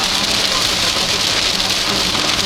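Steady heavy rain hisses close and loud without a break during a tornado storm chase near Monticello, with thunderstorm weather all around.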